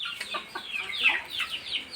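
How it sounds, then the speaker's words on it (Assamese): Chickens cluck and chatter nearby at a house, with several quick, irregular calls over a couple of seconds and no talking heard. "মুৰ্গী আৰু হাঁহৰ পোৱালি আৰু হাঁহ।"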